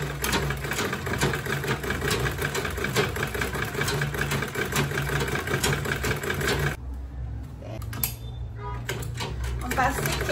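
A sewing machine back stitching on a quilted tote bag runs with a close, rapid mechanical chatter for several seconds, then stops abruptly, leaving low room noise and faint rustling.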